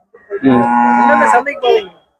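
Cattle at a cattle market in Tamil Nadu: one loud, close moo held for over a second, followed by a shorter second call, with no talk over it.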